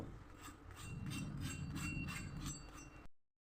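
A vegetable sandwich toasting in a pan, with a steady crackling sizzle and soft scraping rubs over a low cooking rumble, fairly quiet and close, ending abruptly after about three seconds.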